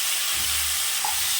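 A steady, bright hiss of oil sizzling in a pot of Tamil murungakkai paruppu sambar as drumstick pieces go in, loud and continuous with a faint low rumble underneath.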